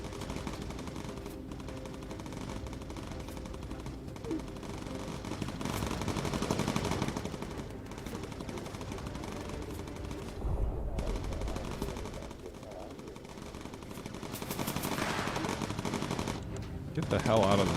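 Bomber gunners in Bomber Crew fire machine guns in long rattling bursts amid engine drone and battle noise, with talking heard partly over the gunfire.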